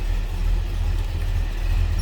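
A 1968 Oldsmobile 442 convertible with a 455 engine idles low and steady, its deep, even rumble running close and unbroken throughout with no voices over it.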